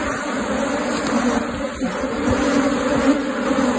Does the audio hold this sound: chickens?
no